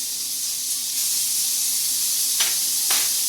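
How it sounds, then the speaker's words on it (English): Steady, loud sizzling of garlic frying in a hot pan, with a couple of brief louder hisses as it is stirred. "But we hear it sizzling, and that's the point."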